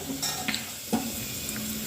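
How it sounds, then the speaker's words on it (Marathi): Melon seeds stir-fried in a pan over low heat for boondi laddu, a soft steady sizzle with a few light scraping stirs and small clicks of seeds against the pan, close and alone. "मगज बीही भाजून घेत आहे."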